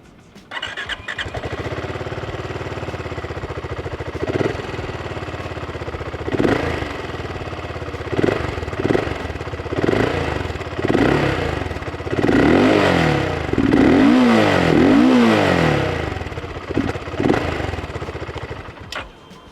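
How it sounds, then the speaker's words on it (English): A BSA Gold Star 650 motorcycle starts and settles into a thumping exhaust idle, then takes a series of throttle blips and louder revs that rise and fall, heard up close without talk. "What do you think about this exhaust sound?"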